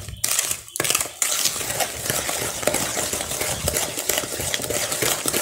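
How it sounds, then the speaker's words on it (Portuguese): Cake batter for a wedding cake mixed by hand with a utensil in a bowl, a close, busy wet stirring and scraping with brief pauses near the start, then continuous, with no voices. "E vamos misturar essa massa."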